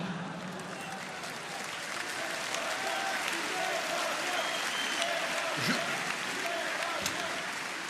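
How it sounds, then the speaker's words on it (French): An audience at a political rally claps steadily and keeps it up throughout, with a crowd murmur underneath and a few louder claps near the end. "Je vous interdis d'applaudir."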